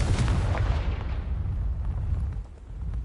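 A Confringo blasting spell explodes in Hogwarts Legacy, a loud booming burst that opens sharply and then rolls into a dense, rumbling decay lasting several seconds, with no voices over it.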